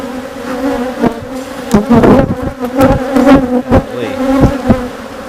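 Dense, agitated buzzing of many honeybees close by outside a hive during an inspection, with individual bees droning past in loud swells over a steady hum.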